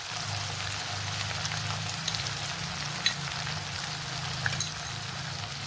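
Ginger-garlic paste sizzles in hot oil in a pan while mutton curry is cooked, giving a steady, close crackling fry with small scattered pops and a low hum beneath.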